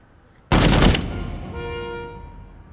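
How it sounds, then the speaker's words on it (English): A short, loud burst of rapid automatic gunfire in a VR shooter video game, about half a second long, followed by a ringing metallic tail that fades over the next second and a half. "The gun sounds are decent."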